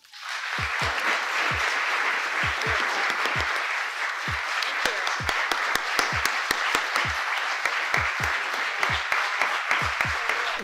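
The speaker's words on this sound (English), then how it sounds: "A classroom full of toddlers clapping" An audience at a Washington DC labor union event claps for AFL-CIO president Liz Shuler, a steady wash of applause with sharp individual claps standing out throughout, fairly loud and close.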